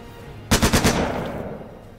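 A burst of about four rapid gunshots fired at a decoy in the video game The Lamplighters League, loud and close, with the echo fading over the following second and no talking.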